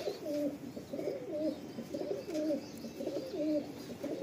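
A female pigeon with pink feet coos steadily, soft throaty rolling calls repeating about every half second, close and continuous with no talking.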